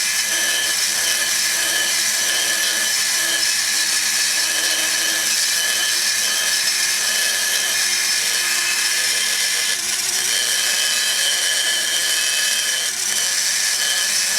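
A high-pitched foot-pedal rotary drill grinds steadily and continuously inside an LS engine cylinder head exhaust port, loud and close, with slight wavering in pitch as pressure changes.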